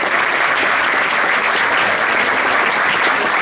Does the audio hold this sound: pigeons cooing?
no